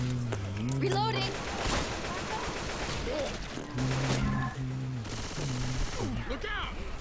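Bursts of video game gunfire in Left 4 Dead 2, loud overlapping shots and rapid fire mixed with game sounds and other noise throughout.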